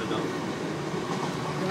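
A moving train gives a steady, loud, broadband rumble and rattle on the rails, heard from inside, continuous throughout with no clear voices.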